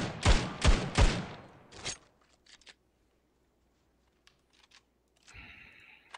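A Galil rifle in the mobile shooter Standoff 2 fires three loud, closely spaced shots and then a fourth, followed by quiet mechanical clicks and a brief metallic rattle near the end.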